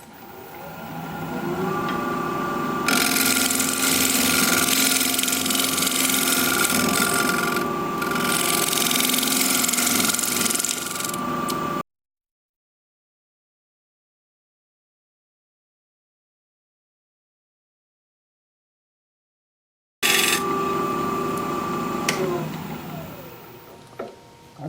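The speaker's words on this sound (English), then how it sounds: "I'm just going to lay my gouge on its side, and I'm just going to round this over out to this edge right here" A wood-turning gouge laid on its side, rounding over the edge of a piece spinning on a lathe: a continuous rough scraping hiss over the lathe's steady hum, broken by a long gap of silence before the cutting resumes.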